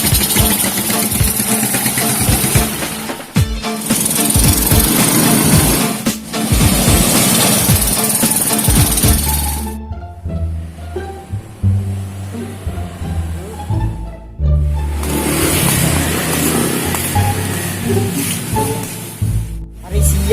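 A motorcycle engine runs loud and close in a parking area, its steady roar broken by a couple of brief dips and a quieter stretch midway before surging back.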